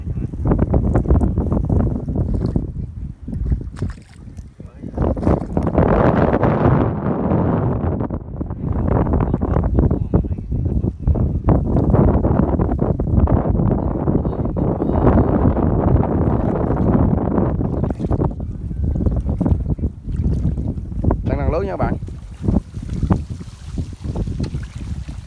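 Strong wind sweeps across rice fields in stormy, rainy weather, loud gusts buffeting the microphone in heavy rumbling bursts that rise and fall over about twenty-five seconds.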